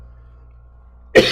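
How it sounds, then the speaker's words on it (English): One abrupt, close human cough comes at the very end after near silence, loud and short with no speech. "I'm going to have to cough here real quick."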